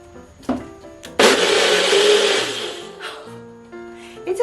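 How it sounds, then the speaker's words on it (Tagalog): A kitchen blender whirs loudly for just over a second in a home, then winds down. A few short knocks come before it, and faint household sounds follow. "This is blender."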